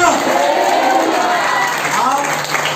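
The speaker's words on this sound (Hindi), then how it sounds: "जोर से ताली बजाकर प्रभु की महिमा करें, जोर से, जोर से, जोर से।" At a Holy Spirit seminar in Haryana and Punjab, a worship crowd claps loudly in praise. The applause forms a dense, continuous patter throughout, with a preacher's voice calling out over it.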